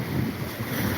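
Steady seaside wind in Alexandria blows across the microphone with a continuous low rumble, while waves wash faintly beneath it for a full second of unbroken, fairly loud outdoor noise.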